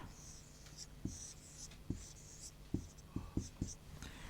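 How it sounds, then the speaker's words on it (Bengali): Handwriting during a class 7 science lesson: scratchy pen or chalk strokes and sharp taps in an irregular rhythm, close and moderately loud, with faint low voice sounds in the background. "আমি আবার একটু লিখে দিচ্ছি"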